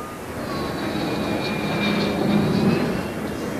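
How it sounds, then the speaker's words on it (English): A General Dynamics F-16 Fighting Falcon of the Royal Norwegian Air Force flies an airshow display at Fairford, its jet roar steady and fairly loud with a rising whine swelling midway. "flying an American aircraft, the General Dynamics F-16, the Fighting Falcon"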